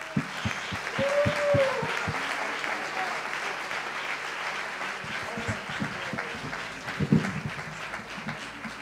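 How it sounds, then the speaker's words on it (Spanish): Audience applause for a singer at a live show, clapping that swells and stays steady, with some crowd voices and a few louder claps mixed in. "Quiero que deis un gran aplauso"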